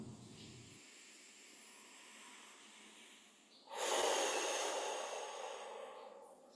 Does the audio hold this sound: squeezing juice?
no